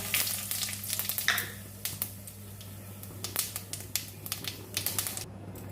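Whole cumin seeds and bay leaf frying in hot oil in a home kitchen, a low sizzle peppered with many sharp pops and crackles scattered irregularly throughout.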